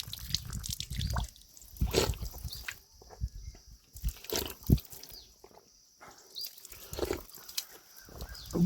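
Water drips and splashes at a village water source, close by, in irregular drops and small spatters of varying loudness.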